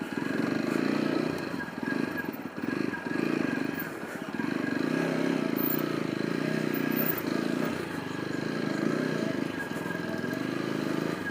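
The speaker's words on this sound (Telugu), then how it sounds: "ఇంజిన్ స్టార్ట్ చేస్తాను." Motorcycle engine running steadily at idle with a rough, even rumble that holds for the whole stretch, dipping briefly once; a fault-check setting with the engine malfunction and ABS warning lights in question.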